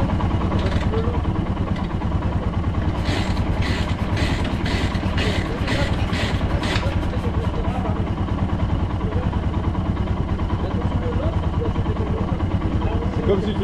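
A motorcycle engine runs steadily with its ignition set to full advance, a close, even mechanical rumble. A voice briefly cuts in partway through.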